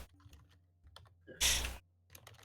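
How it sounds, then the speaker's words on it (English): Quiet clicks of typing on a computer keyboard come in scattered taps, broken by one louder burst of noise in the middle. "I'm typing it in the chat."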